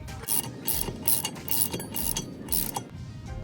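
Ratcheting wrench tightening the propeller nut on a Malibu WakeSetter LSV25 inboard boat, a close, loud series of rapid clicking bursts in several strokes with brief pauses between.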